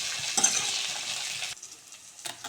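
Chopped onion and green chillies fry in a hot pan for rasam, a bright sizzle broken by stirring and scraping, with a short quiet gap before the sizzle picks up again.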